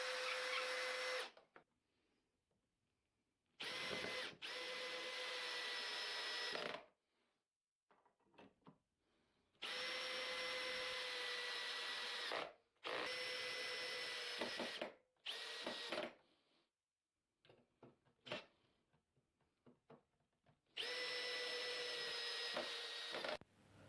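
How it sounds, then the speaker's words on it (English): A power drill pre-drilling and driving screws into bandsaw stand pieces runs in several loud bursts of a few seconds each, separated by quiet gaps with faint handling noises. "Then I could clamp the pieces in place, pre-drill and screw it together."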